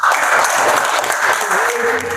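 A junior high class breaks into dense, sustained applause that fills the short moment, and a voice speaks briefly near the end.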